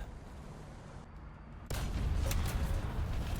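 Tank autocannon firing a 30mm round in War Thunder while driving a Swedish-modified T-72M2 Moderna, a sharp burst of gunfire over steady engine rumble, loud and close.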